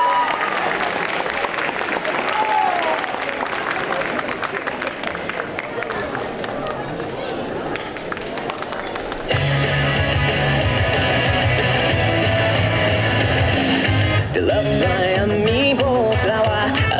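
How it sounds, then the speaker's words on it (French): Crowd applause for cosplayers at a costume parade at a Japanese manga and culture festival in Quimper, a burst of dense clapping for several seconds before loud music cuts in and takes over. "On les applaudit!"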